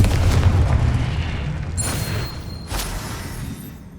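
A Confringo blasting spell explodes in Hogwarts Legacy, a heavy booming blast with rumbling low end followed by two sharper bright bursts, loud and close, fading out at the end.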